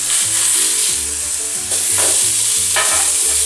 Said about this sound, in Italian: io vado a girare gli hamburger